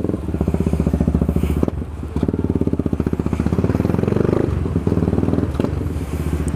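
Motorcycle exhaust revs loudly and close, with a deep pulsing engine note that rises and falls in several bursts over about six seconds, punctuated by brief clattering.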